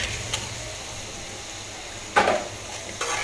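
Meat stir-fried in a pan with capsicum and tomato gives a low, steady sizzle, with a few sharp scraping knocks from a spatula stirring the pan; no talking.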